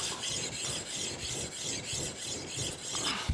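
A flat stone rasps back and forth across the sole of a Starrett 199 Master Precision Level while deburring it, making rhythmic close scraping strokes about every half second with no talk.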